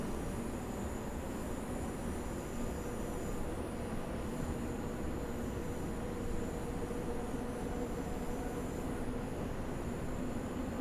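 Long Island Rail Road commuter train in Train Sim World 4 picking up speed through a curve, a steady rumbling roll of wheels and motors with a faint high whine, continuous and even throughout.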